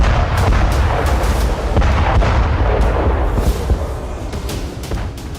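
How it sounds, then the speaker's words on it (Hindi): Russian artillery fire in Kupiansk during the war in Ukraine: a dense, loud barrage of overlapping booms and sharp bursts rolling continuously over a heavy low rumble, with no voices. "रूस की सेना ने कुपियांस्क में आर्टिलरी से भी जबरदस्त प्रहार किया।"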